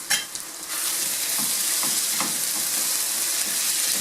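Diced pickles tipped into a pot of rassolnik soup set off a steady loud sizzle and frying hiss with brief stirring clatter, close up and continuous with no voices.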